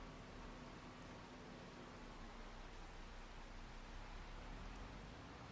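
Steady rainfall in the video game Farming Simulator 25, a dense, even hiss of drops at low level that continues unbroken with no voices.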